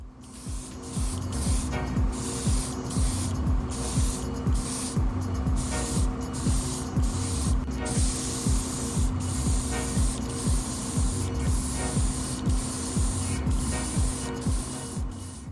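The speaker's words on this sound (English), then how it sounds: "the air control knob is super useful to adjust how much pressure is coming out of the nozzle and how it interacts with the paint" Gaahleri Mobius airbrush spraying paint onto a Hasegawa Porsche 968 model car body, a steady close hiss broken by regular clicking as the trigger works, with no talking.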